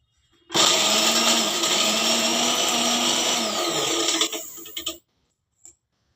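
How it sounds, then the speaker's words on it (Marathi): An electric mixer grinder blitzing garlic, green chili and cumin: a loud, close, steady whirring roar for about four seconds that sputters and cuts off, followed by a brief clack. "लसूण, हिरवी मिरची, थोडंसं जिरं बारीक करून घ्यायचं"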